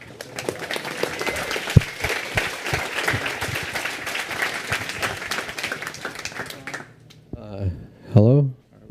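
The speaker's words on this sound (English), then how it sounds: "big round of applause" An audience at a game design talk breaks into sustained applause for nearly seven seconds, dense and steady, then it cuts off and a single voice speaks briefly at the end.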